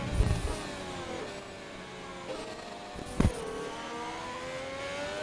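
A racing video game car, running in a Tier 4 round at Britain, hits a rev glitch: steady engine drone with sliding harmonic pitch lines, abrupt rev blips near the start and around the three-second mark, no talk.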